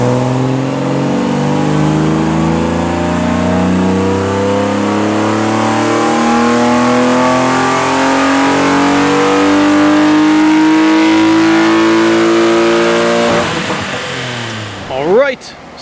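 A BMW E36 M3 engine revs steadily upward on a dyno, its loud harmonic whine climbing for about thirteen seconds before cutting off abruptly as the revs fall away.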